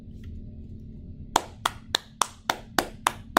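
Hand clapping starts after a quiet stretch with a low background rumble: about eight sharp, evenly spaced claps from a single close person.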